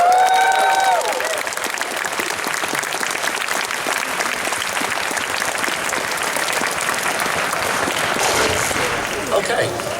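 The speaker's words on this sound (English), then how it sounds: "So give them a round of applause." Convention audience at BuckCon 2014 applauding a VIP panel of guests, a full round of clapping from a large room that swells steadily with a few cheers, following a brief voice at the start.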